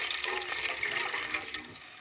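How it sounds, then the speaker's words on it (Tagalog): Water pours steadily into a cooking pot to make broth for a quick Filipino kaldeyo soup, a bright, continuous splashing stream close by that fades slightly at the end. "Lagyan natin ng tubig para may sabaw."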